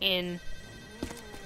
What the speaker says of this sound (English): ignore the phone, if you can hear it